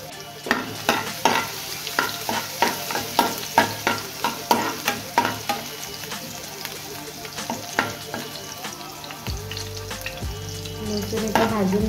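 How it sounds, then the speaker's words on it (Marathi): Garlic fries in hot oil for a Goan sardine ambot tik, a steady sizzle broken by regular scraping stirs of a spoon against the pan, one after another, with the hiss changing near the end. "तेल गरम झालेलं आहे, लसूण घालून घेतो।"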